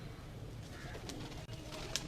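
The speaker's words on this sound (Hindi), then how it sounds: "मगर ये कबूतर देखें जी, जौंसरे कबूतर" Pigeons of a fancy breed cooing on a rooftop in Rawalpindi, Pakistan, with soft, low burbling coos over steady outdoor background noise and a brief high chirp near the end.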